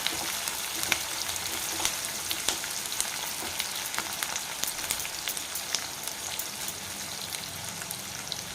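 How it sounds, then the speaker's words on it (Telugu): Sliced onions fry in hot oil with a steady, even sizzle and scattered small pops, heard close up and fairly soft throughout. "మంచిగా వేగనిద్దాం. వేగినాయండి చక్కగా ఉల్లిపాయలు మొత్తం బాగా వేగింది."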